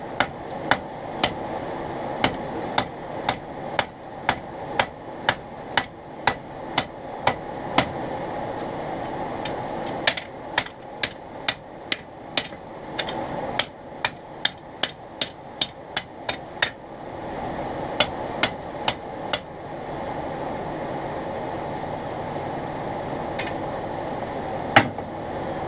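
A hammer strikes hot steel at a forge while fleshing knife blades are shaped, ringing in a steady, evenly spaced rhythm of sharp metallic blows with brief pauses between runs, close and clear over a low background hum.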